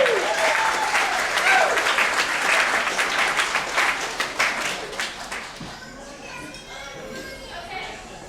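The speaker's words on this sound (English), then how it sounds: "You guys can clap for her, it's good," Wedding guests clap for a toast speaker, a steady round of applause that thins and fades toward the end, with some chatter and a voice mixed in.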